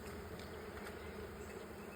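Honey bees buzz steadily around a white backyard hive filled with capped honey and nectar, a continuous close, low hum with no talk over it.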